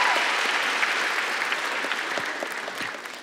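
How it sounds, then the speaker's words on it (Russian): Audience applause at a KVN comedy show performance, steady clapping from a full hall that holds throughout and slowly tapers, with no talk over it. "Давайте похлопаем им"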